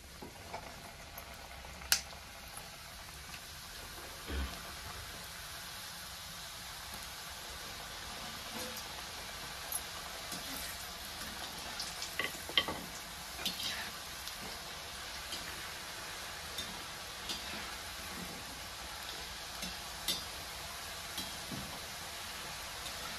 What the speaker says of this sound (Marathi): तेल तापलेलं आहे, मी थोड्या शंकरपाळ्या त्यात टाकून घेते आता।